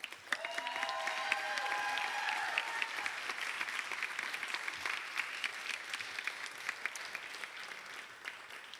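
Audience applause welcoming the Miss Virginia Volunteer princesses to the stage on pageant finals night, sustained crowd clapping in a large hall with music tones fading early and a host's voice faintly over it.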